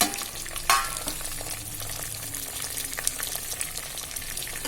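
Tomato, onion and dried red chillies fry in a pan with a steady, close sizzle, broken by occasional scraping stirs and a sharp clatter near the start.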